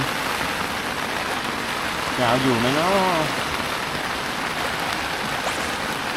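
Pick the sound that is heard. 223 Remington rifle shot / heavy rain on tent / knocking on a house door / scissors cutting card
heavy rain on tent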